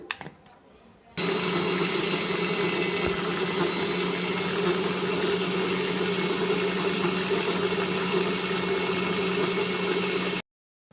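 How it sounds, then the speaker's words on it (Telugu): A mixer grinder whirs loudly and steadily as it grinds flax seeds to a fine powder, starting after a second of quiet and running evenly for about nine seconds before cutting off abruptly. "ఇదైతే మెత్తగా మిక్సీ పట్టేసుకుందాం"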